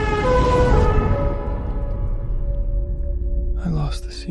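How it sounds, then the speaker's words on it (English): Ambulance siren in an audio drama, a sustained wailing tone that fades and trails off over several seconds before voices and other sounds come in at the end. "The ambulance came."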